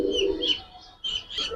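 A Giribaz pigeon gives a brief, soft coo in two short bursts. The bird sounds fairly close, with no talk over it.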